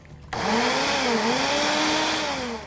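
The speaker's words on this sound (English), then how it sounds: "you can do this in a blender, food processor. You just want to get this pureed." A blender or food processor purees roasted red peppers, seasoned with freshly ground pepper and olive oil, for a red pepper sauce. It starts abruptly and runs as a loud, steady motor whir with a slight pitch wobble, and no talking.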